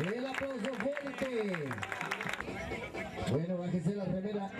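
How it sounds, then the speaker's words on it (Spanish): Crowd applause for the cyclists at an award ceremony, steady clapping under an amplified announcer's voice speaking throughout. "El aplauso fuerte."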